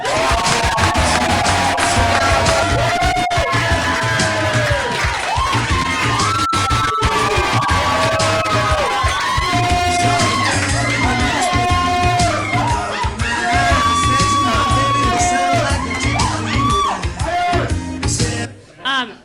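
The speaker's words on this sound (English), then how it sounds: "round of applause, a very funny lady, Hannah Kropf!" A crowd at a stand-up comedy show applauds and cheers loudly and steadily for nearly twenty seconds, with whoops and yells over sustained clapping, then it cuts off abruptly at the end.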